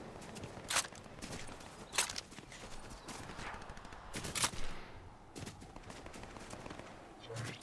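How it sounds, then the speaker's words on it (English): Rapid bursts of gunfire in Fortnite crack out in several clusters at uneven intervals, some close and sharp, others more distant, over a busy background of footsteps and game noise. "Shots towards the north."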